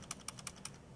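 Four quick, soft clicks of fingers typing on a computer keyboard, evenly spaced and faint against a quiet room.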